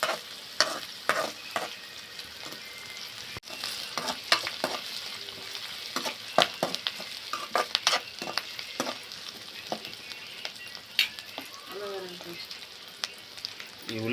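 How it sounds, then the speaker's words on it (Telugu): Onions frying in a pan and stirred until golden, with a steady sizzle broken by frequent sharp scrapes and clatters of the spoon, close and fairly loud throughout. "గోల్డెన్ కలర్ వచ్చేంత వరకు ఆ ఉల్లిపాయలను అయితే వేగనిచ్చుకున్నాము"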